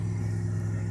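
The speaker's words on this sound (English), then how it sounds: "And this car is kind of loud, only because I'm assuming it's an exhaust leak." Steady low engine drone and road rumble inside a 1994 Cadillac Sedan DeVille with an exhaust leak, loud and continuous throughout with no talking.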